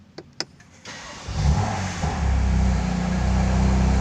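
A BMW M2 CS engine starting up nearby: a few faint clicks, then the starter cranks and the engine catches with a rising bark before settling into a steady, throaty idle.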